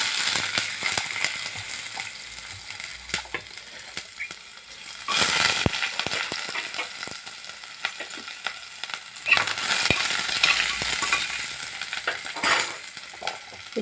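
Vadagam powder tempering with curry leaves and shallots frying for sambar rice, a crackling sizzle with spatula scrapes and clinks, swelling in loud bursts as ingredients go in.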